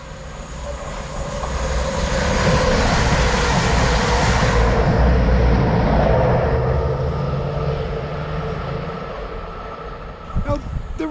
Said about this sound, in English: this is the London to Sheffield Express